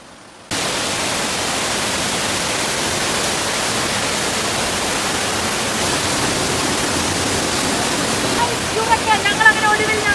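Pambanal waterfall near Kochi, a dense continuous roar of falling water starting abruptly and holding steady and loud close by, with a faint voice near the end.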